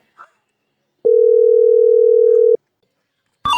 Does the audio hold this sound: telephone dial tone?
yes